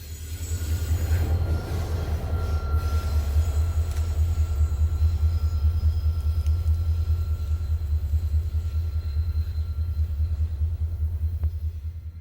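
CSX freight train headed by a C40-8W locomotive sweeping through a curve beside a concrete wall, a loud continuous low rumble of rolling cars with faint metallic wheel squeals and clatter throughout.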